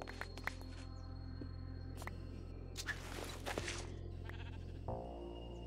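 A sheep in the video game Minecraft bleats in short, faint calls over a low, steady droning background. Light clicks and footstep-like taps are scattered through it, and no one speaks.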